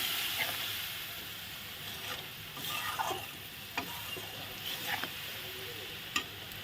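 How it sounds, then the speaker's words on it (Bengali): Morola river fish curry with spice water being sautéed in a pan, giving a steady close sizzle with scattered scraping stirs and clicks of a spatula against the pan. "দেখো একটু মশলা জল দিয়ে আমি এখন কষিয়ে নেব।"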